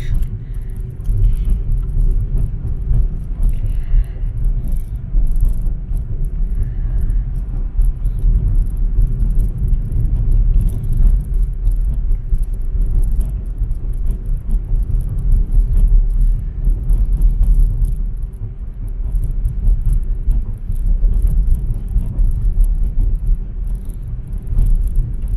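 A car driving along a road through Cebu City, Philippines, with little traffic, gives a steady low engine and tyre rumble that stays continuous and fairly loud throughout, with no talking.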